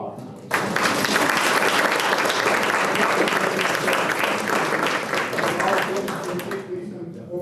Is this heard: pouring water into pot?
no